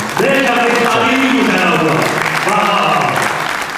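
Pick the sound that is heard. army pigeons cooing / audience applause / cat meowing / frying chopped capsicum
audience applause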